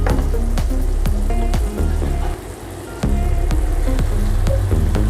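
Eggs frying in a pan while egg gravy is made, giving a steady close sizzle and crackle with brief dips in level and sharp spattering pops throughout.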